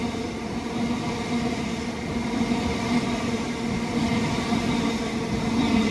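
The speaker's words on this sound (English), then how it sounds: "we have an Avanti on test from London Euston to Crewe" Avanti train on a test run passing at Stoke on Trent, a continuous rumbling drone with a steady hum that slowly builds in loudness as it rolls by.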